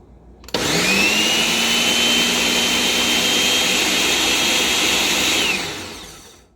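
A Ninja blender whirs through milk, eggs, sugar and sweet potatoes for a dessert, kicking on abruptly with a loud, steady high-pitched motor whine that holds for about five seconds, then winds down and fades out.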